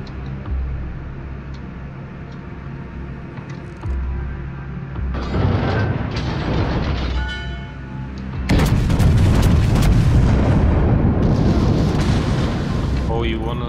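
Naval gun salvos from World of Warships battleships such as Bismarck, with heavy booming blasts and rumbling that swell into a loud, dense barrage in the second half, continuous and close with no clear gaps.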